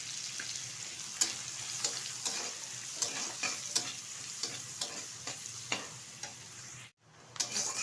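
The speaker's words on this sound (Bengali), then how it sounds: "কুচিয়ে রাখা পেঁয়াজটা ভালোভাবে ভেজে নেব।" Chopped onion frying with turmeric powder in a pan, a steady close sizzle broken by regular scraping stirs of a spatula, with a brief pause near the end.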